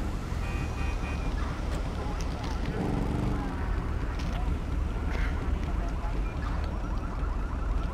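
A car alarm in the video game Grand Theft Auto V wails in the distance, its repeating tones mixed into a busy, noisy background with voices faintly present.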